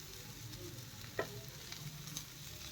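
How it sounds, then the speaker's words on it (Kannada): A vegetable sandwich fries in butter in a pan, giving a soft, steady sizzle with a faint scrape or stir near the middle. The sound is fairly quiet and close, and no one speaks. "ಹಸಿ ವಾಸನೆ ಹೋಗೋ ತನಕ ಸ್ವಲ್ಪ ಫ್ರೈ ಮಾಡಿಬಿಟ್ರೆ ಸಾಕು"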